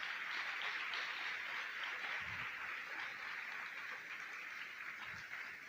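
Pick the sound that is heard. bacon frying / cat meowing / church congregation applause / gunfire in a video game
church congregation applause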